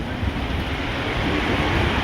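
Steady roar of wind and breaking sea waves on Parki sea beach, Anwara, a continuous broad rush with no pauses and no voices.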